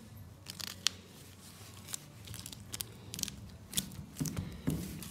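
Gaffer tape is ripped and wound around a bolt on a stainless steel sailboat pushpit, giving a string of close, sharp tearing and crackling bursts that come irregularly over a few seconds, with no one talking.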